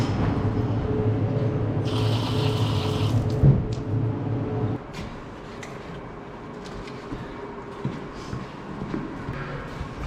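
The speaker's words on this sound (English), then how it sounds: "it's just pressuring water out." A pressure washer sprays water in a calf room, a loud steady hissing rush that holds for about five seconds and then cuts back to a lower, uneven spray with scattered clanks.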